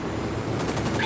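Gunfire in the tactical shooter Ghost Recon Wildlands, a rapid rattling burst of automatic shots over dense game ambience, with a brighter hissing layer near the end.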